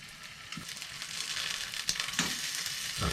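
Pork sizzles and browns in a pan on a stovetop, its fat bubbling out in a steady, close hiss with scattered pops.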